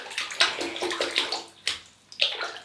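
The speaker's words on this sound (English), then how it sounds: "So we'll wet that in this nice hot water." A shaving brush is wetted in hot water, making close splashing and sloshing in bursts of dipping and swirling with brief gaps between.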